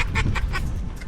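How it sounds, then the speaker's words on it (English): Hens calling from somewhere behind the hunters during a duck hunt, a quick run of about six clucking calls at moderate distance over low background noise. "There's like a couple hens I keep hearing back there."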